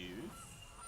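A brief honk effect in the Magic Arena digital card game, played for the Gilded Goose card: a single short, faint, nasal goose call that fades quickly.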